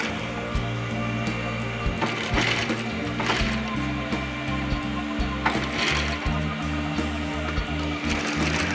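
A sewing machine runs steadily, stitching the final seam of a handmade men's leather bag, with a continuous rhythmic mechanical whir and clatter up close and occasional small knocks.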